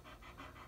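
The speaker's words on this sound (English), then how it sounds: "she just wants to pant and pant and pant" A pregnant pit bull pants close by in a steady, rapid rhythm of quick breaths. The panting runs continuously and is heard alone, with no voices.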